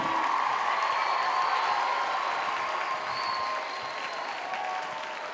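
An audience at an eighth-grade poetry slam claps for the contestants, a dense, sustained round of applause that eases slightly toward the end, with a faint murmur of voices.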